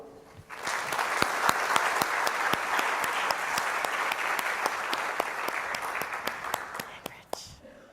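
A large in-person audience at a spring welcome address breaks into sustained, steady applause with sharp individual claps, holding for several seconds before tapering off abruptly near the end.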